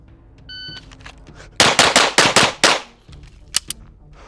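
Walther PDP pistol fired at close range, a rapid string of about six loud, sharp shots followed by one more isolated shot after a short pause, with no talking.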